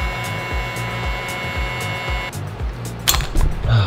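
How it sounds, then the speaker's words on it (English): A heat gun blows on plugs during a Suzuki RM250 dirt bike teardown, giving a steady whooshing hum with a rhythmic pulsing undertone. It then shifts to a rougher blowing with brief clatter near the end. "Just for safety, I'm gonna take a heat gun to these."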